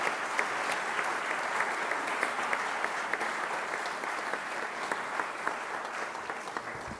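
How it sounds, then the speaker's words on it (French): Audience members at an agglomeration council meeting clap in a steady, continuous round of applause that runs evenly from start to finish with no talking. "continuez vos applaudissements"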